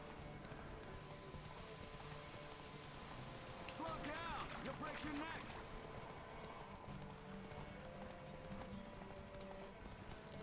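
Hoofbeats of Geralt's horse Roach galloping across open ground in The Witcher 3, a rapid, steady clip-clop rhythm under background music, with a brief whinny-like burst midway and talk over it.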